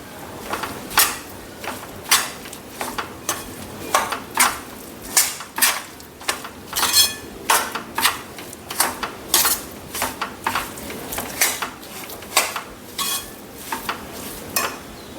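Flour roasting in ghee in a pan for Gujarati sukhadi, stirred steadily on medium heat, giving repeated loud scraping and clanking strokes of a spoon against the pan at an uneven rhythm.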